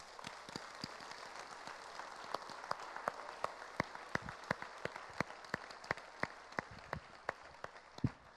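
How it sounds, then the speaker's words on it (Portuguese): Sparse, faint applause from a church congregation during a celebration service, scattered individual claps spaced irregularly over a quiet background. "Você pode aplaudir o Senhor?"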